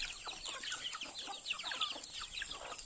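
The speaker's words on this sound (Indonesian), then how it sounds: "pagi ini kita mau kasih makan ayam kampung saya" Free-range village chickens (ayam kampung) cluck steadily and overlap at close range, forming a busy continuous chorus of short calls with no talk.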